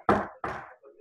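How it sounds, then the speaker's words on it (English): Two firm knocks land on a front door, close and distinct with a short pause between them, followed by a faint muffled sound. "I'm simply going to knock on the door."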